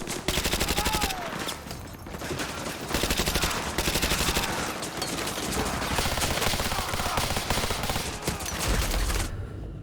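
Heavy gunfire in Modern Warfare 2 Remastered, with rapid bursts of automatic weapons and overlapping shots in loud, dense volleys that briefly drop off before resuming, and no voices.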